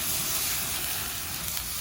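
Tomatoes and garlic sizzle in a hot pan during vodka sauce preparation, a steady loud broadband hiss and crackle that fills the whole stretch with no talking.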